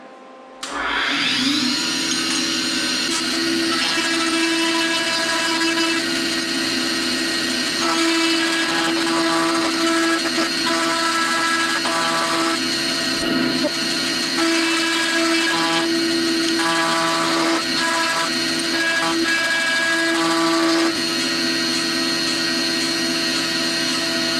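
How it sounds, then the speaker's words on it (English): A profile grinder runs steadily while refurbishing a sheet metal shear, giving a loud, continuous whirring whine with shifting tonal edges that starts abruptly and holds for the whole stretch, with no talking. "I thought it'd be a cool chance to use the profile grinder"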